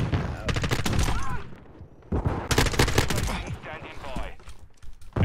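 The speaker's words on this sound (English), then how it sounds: "The game is making me shoot, just so you guys are up to date" Rapid bursts of in-game gunfire from Modern Warfare 2, loud close automatic volleys in two long stretches with a short lull between, with voices speaking over parts of it.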